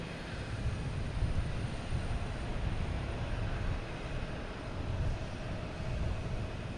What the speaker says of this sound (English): Next takeoff is Cape Air, heading to Provincetown.